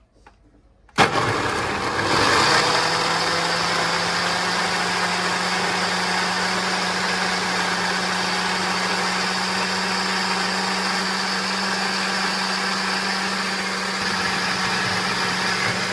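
A countertop blender blending a smoothie in a small Amsterdam kitchen, starting abruptly after a second of quiet and then whirring steadily and loudly with a constant motor hum to the end, no talking.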